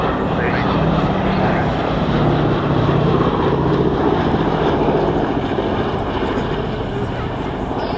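A B-17 bomber of the 324th Bomb Squadron flies past at an RAF Cosford airshow, its engines a steady, loud, broad roar that holds throughout, with a commentator speaking over it.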